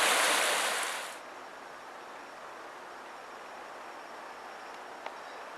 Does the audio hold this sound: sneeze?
no